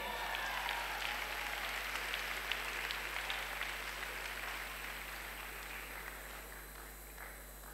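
A debate-showcase audience at the World Scholar's Cup Global Round applauds an announced student speaker; sustained, dense crowd clapping at steady level, fading slightly toward the end, with no speech over it.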